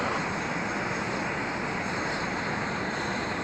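A rescue helicopter's engine idles on the ground near an injured person's location, giving a steady, loud, unbroken roar with no voices over it.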